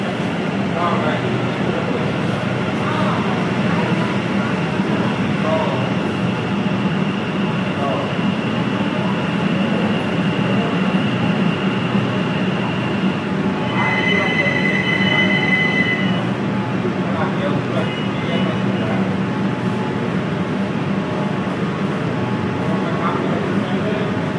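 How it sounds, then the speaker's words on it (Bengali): Metro train arriving at a station platform, a loud steady rumble of rolling carriages with a sustained high wheel squeal in the middle, close by and filling the whole stretch. "এই যে একটা মেট্রো আসছে, আশা করি এটাতেই থাকার কথা"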